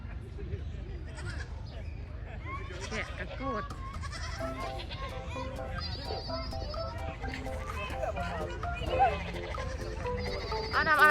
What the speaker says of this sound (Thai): แกะค่ะพี่น้อง